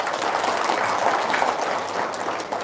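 Dense audience applause, a steady wash of many hands clapping for under three seconds, fairly loud with no talk over it.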